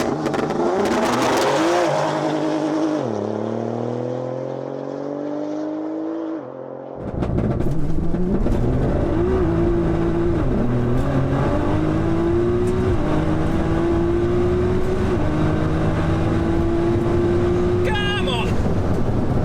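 A tuned Nissan GT-R launches hard down a runway, its engine roaring loud and climbing through several gear changes, each shift dropping the pitch before it rises again, with someone talking over the noise.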